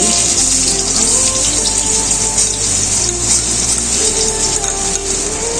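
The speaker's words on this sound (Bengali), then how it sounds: "সর্ষের তেলের মধ্যে দিয়ে দিচ্ছি এক চামচ ঘি ফোড়নে দিয়ে দিচ্ছি তেজপাতা এলাচ দারচিনি এবার দিয়ে দিচ্ছি পেঁয়াজ কুচি" Chopped onions hit hot mustard oil and ghee that already holds bay leaf, cardamom and cinnamon, giving a loud, close, continuous hissing sizzle that holds steady throughout.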